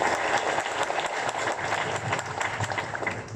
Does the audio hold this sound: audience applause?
yes